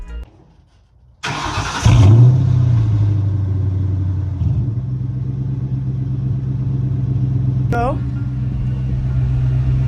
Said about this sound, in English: it's idling real smooth. I haven't heard a misfire yet.